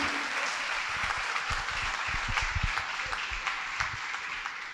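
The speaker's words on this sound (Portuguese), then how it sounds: "Gente, uma salva de palmas." A seated business audience at a tax reform talk gives steady, even applause, with many hands clapping together for the whole stretch.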